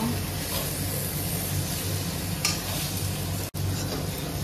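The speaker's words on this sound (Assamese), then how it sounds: "কঁঠালখিনি খুব ধুনীয়াকৈ ভাজি ল'ব লাগিব যাতে মছলাটো ভিতৰত সোমাই যায়।" Jackfruit and potato curry fries in spices in a pan, stirred continuously with a steady close sizzle and scraping, one brief gap near the end and no voices.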